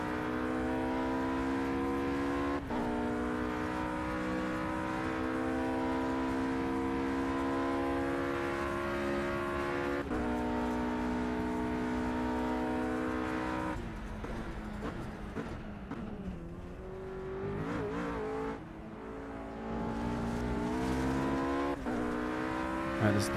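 Race car engine at Monza in Project Cars, a loud steady high-pitched whine climbing through gears with brief drops at shifts, then easing off and slowing into a corner before accelerating again.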